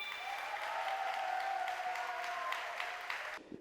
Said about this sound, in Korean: 힘찬 박수와 환호로 열어주시면 고맙겠습니다